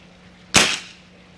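A single sharp crack from a Swiss Arms TG-ONE .177 break-barrel air rifle firing, close and loud, with a short fading tail and quiet before it.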